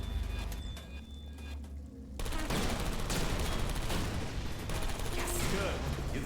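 Turrets firing in the video game Portal Stories: Mel, with dense rapid bursts of gunfire that start abruptly after a quieter stretch of mechanical clicks, loud and sustained.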